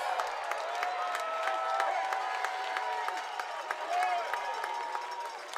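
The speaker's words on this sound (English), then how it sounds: "Crowd gives Smith a cheer" Crowd at a Bend Elks vs Portland Pickles baseball game cheering and applauding a pitcher who escapes the inning, a broad, sustained roar at moderate distance under a commentator's voice.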